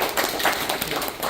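A short stretch of dense, steady clapping from an audience at an education information session, many hands overlapping into a broad patter with no voices.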